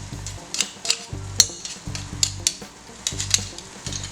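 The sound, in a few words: meat frying in a pan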